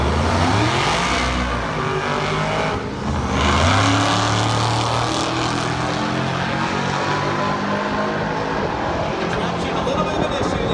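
A drag racing car on 20-inch wheels with radial tires on the back launches off the line at an American muscle car show, its loud engine roar rising steadily and sustained throughout, with faint voices underneath.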